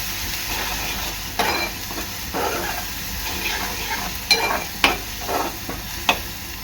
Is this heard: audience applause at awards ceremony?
no